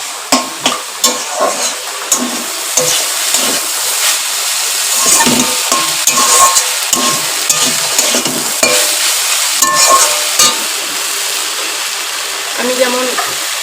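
Leafy greens stir-fried in a pan hiss and sizzle loudly and continuously, broken by repeated spatula scrapes and stirring clatter, close up and alone.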